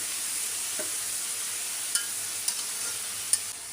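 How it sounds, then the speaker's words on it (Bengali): Pointed gourd pieces fry in hot oil with a steady soft sizzle, with a few brief scraping clicks as the pieces are turned. "আমি কিন্তু পটলটা ভেজেই নিচ্ছি উল্টে উল্টে তেলে"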